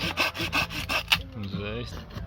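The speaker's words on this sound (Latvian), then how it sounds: "Aiziet, apgreiz zāģos." A hand saw cuts through wood at an outdoor summer camp with steady, rasping back-and-forth strokes close to the microphone, then the strokes stop and a brief scraping sound follows.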